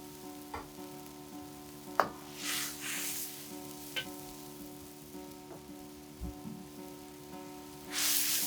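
Minced meat frying in a pan for Sapporo-style miso ramen, a steady soft sizzle with occasional sharper ticks and stirring scrapes, close by, with no talking.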